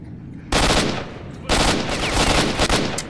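Player's automatic weapon fire in the shooter S.T.A.L.K.E.R., two loud sustained bursts of rapid close shots, the first about a second long, the second longer with a brief gap near its end.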